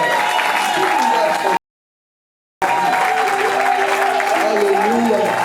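A church congregation applauding and cheering during a worship service: steady, dense clapping from a large crowd that fills the space, broken by one brief drop to silence before resuming at the same strength.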